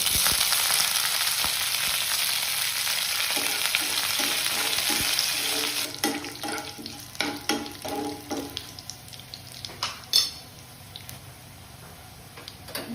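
Curry leaves crackle and sizzle in hot oil for an Onam pumpkin pachadi, starting as a loud dense fry that gives way to sharper sputtering pops and clicks, close by with no talking.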